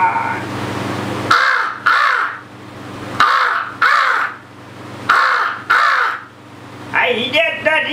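A voice artist imitates a crow, giving about five harsh, loud cawing calls in an uneven rhythm, each followed by a short pause, with a faint hum underneath and a brief rougher call at the end.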